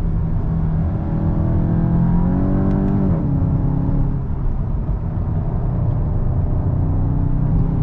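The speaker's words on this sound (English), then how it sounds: "There is a bit of fake sound coming through inside. It's not true sound of the engine" An artificial engine tone played through the cabin of a 2023 Volkswagen Golf GTI, rising in pitch briefly as if revving and then settling back to a steady drone.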